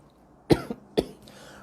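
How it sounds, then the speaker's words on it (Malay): Two sharp coughs about half a second apart, close and fairly loud in an otherwise quiet indoor space, with a small throat-clearing catch after the first. "Oh, maaf, batuk."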